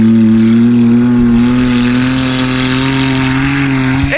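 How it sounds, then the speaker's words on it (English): A smart car engine strains loudly and steadily as the car drives across a muddy field, holding a sustained droning tone that rises slightly in pitch, up close and without voices. "It's just so funny seeing a smart car rally across the field"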